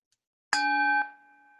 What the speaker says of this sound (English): Just noticing the sound of the bell as it recedes, as it changes texture through Zoom.